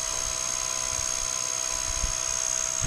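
A Blade 150 RC helicopter lifts off, its motor and rotor giving a steady, high-pitched whine with a constant tone throughout, fairly close and unbroken, with faint low thumps beneath.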